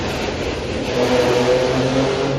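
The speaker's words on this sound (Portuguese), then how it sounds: "Sempre tem que passar uma moto descontrolada para atrapalhar, né?" A motorcycle passes on a highway with a steady engine roar that swells louder in the second half, close by and heard alone without talk.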